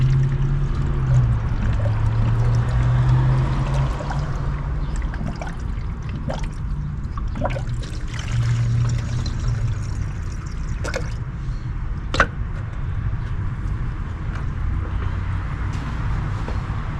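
Coolant pours steadily into the uncapped cooling system of a 2018 Chevy Trax with a 1.4-liter Ecotec engine, a continuous liquid gurgle with occasional clicks and knocks over about seventeen seconds.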